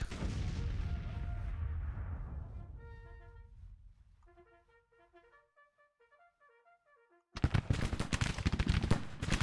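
Musket and artillery fire in the Civil War strategy game Grand Tactician: a heavy rumbling volley fades out, soft musical tones follow, then a loud burst of rapid crackling fire breaks in.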